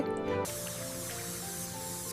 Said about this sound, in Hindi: अब डॉक्टर मोमूव की मैजिक स्प्रे